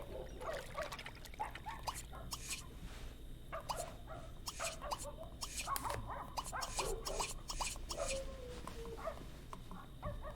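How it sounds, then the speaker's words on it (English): Several dogs bark repeatedly in The Sims 2 video game, short sharp yaps scattered over a steady low hum, moderately faint and somewhat distant. "And a lot of noisy dogs out in this city."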